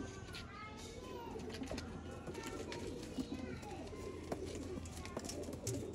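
Pigeons in a loft setup cooing softly: low, repeated coos scattered through the background beneath someone talking, with small rustles and taps around them.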